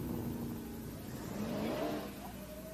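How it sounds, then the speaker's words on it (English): A 9-second Dodge Durango SUV drag car roars past on a racetrack, its engine note climbing as it accelerates, loud and fairly close, with no talk over it. "the Mom Car, the 9-second Durango coming back around left-hand side"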